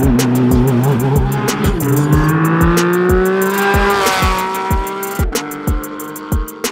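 Race car at the Pikes Peak International Hill Climb, its engine revving hard and climbing in pitch through the gears, with a rapid ticking rattle and short tire chirps, loud and close with no talking.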